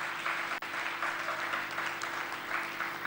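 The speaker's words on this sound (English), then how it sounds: "I really want us to clap for that" Lecture audience applauding at Baze University after a talk by the UN Deputy Secretary General. Steady, moderately distant clapping from many hands carries on without a break and fills the room.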